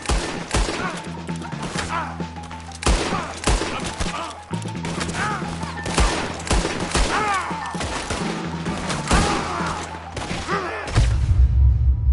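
Gunfire in Red Dead Redemption 2 during a wagon firefight, with repeated loud shots and volleys over a dense backdrop of music and battle noise.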